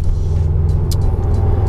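A Subaru WRX STi cruises on the road and eases off speed, a steady low engine rumble with road noise heard from inside the car, with no rise in revs and no voices.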